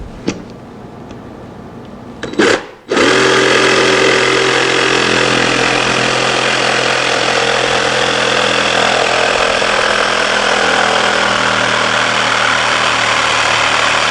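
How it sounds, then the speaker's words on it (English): A jigsaw cutting wood along a guide cleat starts after a few seconds of quiet and a couple of knocks, then buzzes loud and steady, close by and unbroken until the end. "I put this cleat in here to guide my jigsaw."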